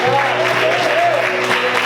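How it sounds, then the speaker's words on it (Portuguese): Congregation applause during a church sermon, a brief, loud wash of clapping mixed with voices and musical tones underneath. "Você pode aplaudir o Senhor por isso?"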